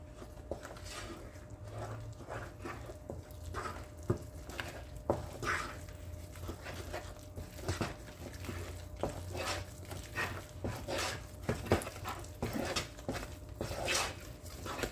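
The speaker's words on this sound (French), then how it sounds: "je vais pouvoir rajouter ma farine d'un coup. Et ensuite, on mélange" Flour being stirred into melted butter in a pan for choux pastry dough, giving repeated scraping and knocking strokes of a spoon at a steady pace, close by with no voices.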